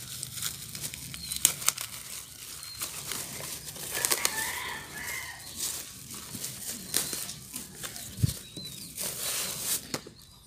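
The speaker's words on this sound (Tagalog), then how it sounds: "So, unplastic na natin. Kasi hindi siya naka-box. Kaya unplastic." Plastic wrapping is crinkled and torn off a bottle of Martes apple cider, giving close, irregular rustling and crackling with a few sharper snaps.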